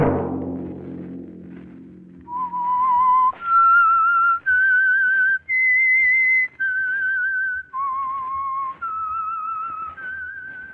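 The Whistler radio program's theme signal, a clear solo human whistle, plays a slow melody of about eight sustained notes with brief gaps, following a fading low musical chord.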